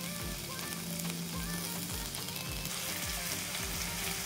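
Green chilies roast in a hot pan while paneer bhurji is being cooked, producing a loud, continuous sizzle and crackle with a low rhythmic thumping beneath it, no voices.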